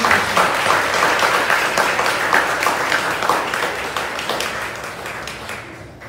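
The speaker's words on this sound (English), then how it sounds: "let's give one more round of applause to our seventh graders" A school honors-program audience applauds seventh graders with sustained, dense clapping that holds steady for about six seconds before tapering slightly near the end.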